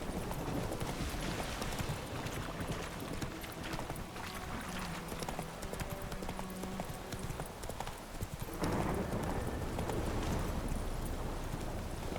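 Roach, Geralt's horse in The Witcher 3, gallops with steady, rapid hoofbeats that run on continuously over a dense game soundscape, growing slightly louder near the end.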